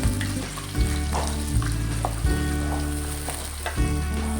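Cinnamon, lemongrass, star anise and cloves frying in oil, a loud, close, continuous sizzle punctuated by repeated stirring scrapes roughly every half second to second.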